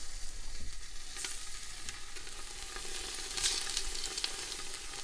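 Thinly sliced potatoes sizzle steadily in hot oil in a pan, giving a soft, even crackling hiss with occasional sharper pops, close and without talk.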